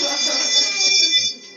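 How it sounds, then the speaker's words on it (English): A hand bell rings out loudly and continuously in a celebratory shake, bright metallic ringing that fades slightly toward the end. "we need to get the bell ringing, boys, because you've had a good morning"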